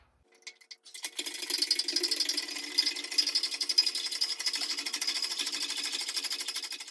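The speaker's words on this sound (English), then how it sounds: "let's get to bending this tube. Oh, the manual way" Manual tube bender working a steel roll cage tube, a rapid rattling, ratcheting clatter that starts after a second of quiet and continues steadily at close range, with no speech.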